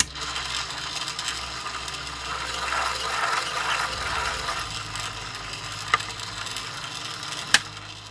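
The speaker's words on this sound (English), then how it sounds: "You just need to put a small bevel on the inside of the case mouth." A hand chamfering tool bevels the inside of a brass cartridge case mouth during reloading, making a soft continuous scraping and ratcheting grind, close but quiet, with a couple of sharp clicks near the end.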